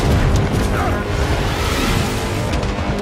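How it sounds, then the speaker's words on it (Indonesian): A bomb goes off in an action film, a dense roaring boom that fills the whole stretch with rumbling, debris-like noise and no clear start or end. "Bom pun meledak."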